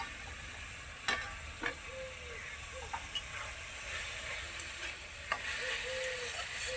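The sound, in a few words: spice paste being fried and stirred in a pan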